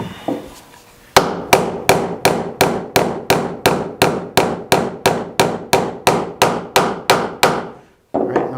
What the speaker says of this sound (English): I'll drive that down flush and try to be careful not to hit the face of your top board.